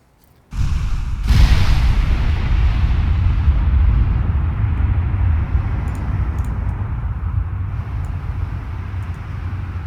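Heavy naval gunfire from battleships in the Ultimate Admiral Dreadnoughts game: a sharp loud blast opens into a sustained low rumbling roar of distant guns, with faint clicks over it.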